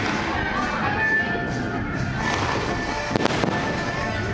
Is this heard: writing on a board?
no